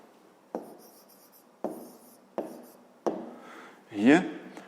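A pen writes out a fifth-grade math solution on paper in a series of short scratching strokes, ending in a longer, louder scribble, recorded close with quiet surroundings.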